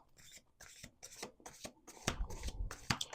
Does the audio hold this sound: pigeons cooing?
no